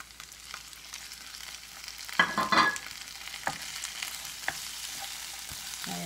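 Chopped onion, tomato and green chile hit a hot pan, with a rising sizzle and a burst of bright crackling and clatter as they go in, then steady frying with occasional stirring scrapes.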